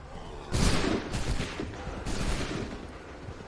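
Soldiers fire a massed gunfire volley in the Assassin's Creed III video game: a loud, sharp crackling burst, then a second ragged volley a moment later, each trailing into rumbling echoes.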